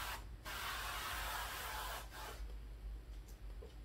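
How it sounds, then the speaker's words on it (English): Avocado oil sprayed onto a ridged pan in a home kitchen, two soft hissing bursts close by, a longer spray followed by a shorter one. "I'm gonna spray it with some avocado oil."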